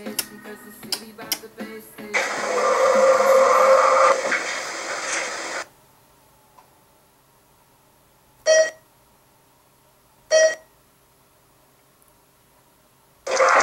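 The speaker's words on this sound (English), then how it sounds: "These are the elevators at the brand new elevators at the Seabiscuit Square Mall." ThyssenKrupp Synergy machine-room-less traction elevator in a new shopping mall: a rattling hum of the car moving for a few seconds, then quiet hum with two short chimes spaced apart, heard up close.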